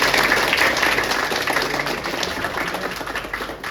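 Applause in a gym welcoming a new female MMA coach, a loud burst of many hands clapping that gradually thins and fades.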